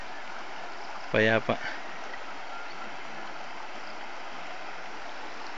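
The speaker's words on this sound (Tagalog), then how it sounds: "Ganda ng tunog ng ilog." River water flows in a steady, soft broadband wash beside a forest trail where a group is walking, with a brief burst of a man's speech early on over the continuous rushing.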